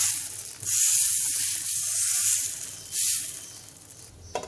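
Rice-flour batter for a dosa or chapti pitha hisses and sizzles as it is poured slowly onto a hot pan, a steady close bright frying hiss that swells and fades over a few seconds.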